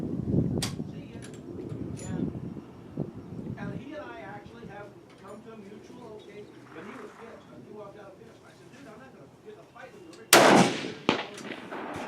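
A single sharp report from a Swiss 1935 K31 rifle firing handloaded ammunition at a steel target bursts out near the end, after quiet talking and handling noise.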